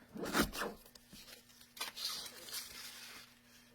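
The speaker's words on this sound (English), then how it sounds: "I'm going to get my cutter, just so I got a nice straight cut on it" A paper trimmer's blade slides across cardstock for a straight cut while making a paper pumpkin craft, giving a few close, crisp scraping strokes over a quiet room.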